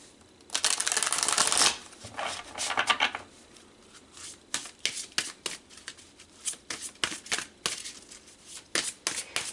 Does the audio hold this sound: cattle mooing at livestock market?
no